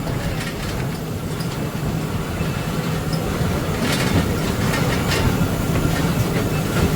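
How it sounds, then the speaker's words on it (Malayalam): A train rolls past on the rails with a continuous heavy rumble and rattling, steady and fairly loud throughout. "ട്രെയിൻ അതിൻ്റെ വിളി ഉൾപ്പെടെ ഉണ്ട്"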